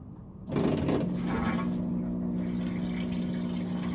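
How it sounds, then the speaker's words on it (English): A washing machine running a clean washer cycle starts filling with water: a rush of flowing water kicks in after a brief moment and continues steadily alongside a low mechanical hum. "I think maybe I need to run it on that clean washer cycle again"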